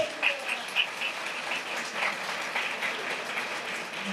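A church congregation claps during a sermon, producing moderate, steady applause with a few sharper claps near the start, fairly close and continuing without pause.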